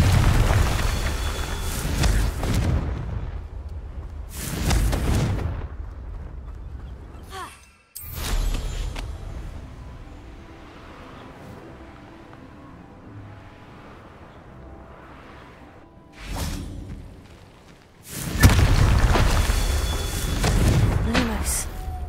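Repeated Confringo fire spell blasts from Hogwarts Legacy erupt in loud bursts, several spaced hits with quieter stretches between them, the last near the end being the strongest.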